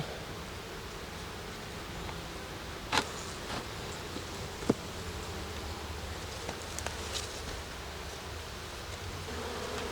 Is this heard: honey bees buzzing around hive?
yes